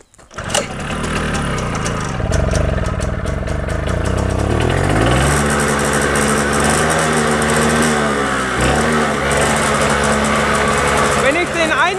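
A Balkenmäher bar mower's small engine starts up and runs loud and steady close by, its pitch shifting as it settles into a continuous drone.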